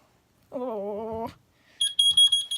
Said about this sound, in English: I did switch the tone on that after seeing how to do that from SER Safety